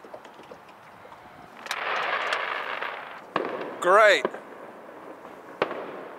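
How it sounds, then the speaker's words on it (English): Fireworks set off at night near Knoxville, heard from a fishing spot as distant pops and rumbling bursts with crackle; a whistling rise cuts through midway, and someone speaks briefly. "They're shooting fireworks."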